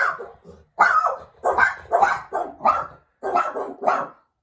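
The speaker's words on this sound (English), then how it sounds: "I'm not sure what they're barking at." Several sharp, loud barks from dogs close by, coming in quick bursts separated by short pauses.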